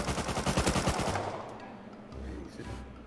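Gunfire in the survival game Rust: a rapid burst of automatic shots in quick rhythmic succession, loud at first, then fading into quieter distant pops and rumble.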